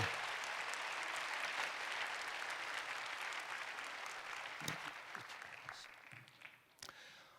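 A church congregation claps for four people called forward during a special evening thanksgiving service. The sustained, fairly distant applause gradually tapers, thinning into scattered claps and a few knocks near the end.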